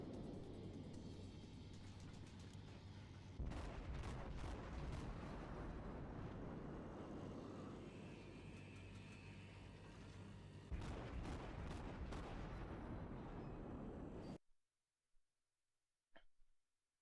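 Naval gunfire from the World of Warships video game: a dense, rumbling barrage with bursts of booming salvos near the start and again around the middle, then an abrupt cut to near silence with a couple of faint clicks.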